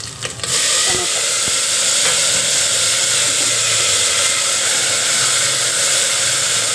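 Butter melting on a hot pan for akki roti gives a loud, steady, close sizzle that hisses without letup after a brief clatter at the start.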